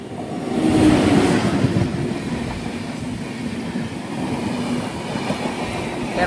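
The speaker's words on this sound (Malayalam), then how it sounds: "Millennium express." The Ernakulam Millennium Express rolls past on the tracks near Renigunta, its loud, steady rumble and rhythmic wheel clatter heard close by and filling the whole stretch without voices.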